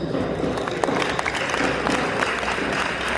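Steady applause from a crowd at a Ghanaian independence day celebration in Qatar, a dense patter of clapping that holds evenly throughout without pauses.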